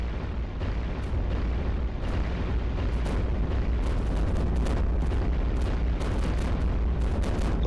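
Continuous heavy booming and blasts from layered defensive cannons in iBomber Defense, dense and loud throughout, with rapid overlapping impacts and no pauses.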